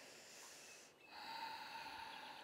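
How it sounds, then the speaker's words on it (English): Ujjayi breathing during an intermediate-to-advanced yoga flow, a steady, fairly close, breathy exhale with a hissing, airy texture that builds after a short pause and carries on alone. "if you hear my breath, it's because I use Ujjayi breathing."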